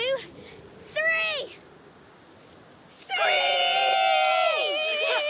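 Video game characters in A Plague Tale Requiem screech like birds of prey: high, wavering voiced screeches, first in short bursts, then a long overlapping chorus of several voices, loud and near.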